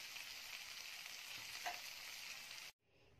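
Egg masala sizzles softly in a pan as it is stirred, a steady, faint frying hiss that cuts off abruptly near the end.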